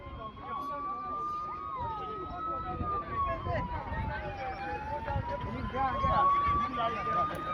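A fire brigade siren wails at a school bus fire near a village, its tone rising and falling steadily at moderate distance while people talk and a crowd murmurs nearby.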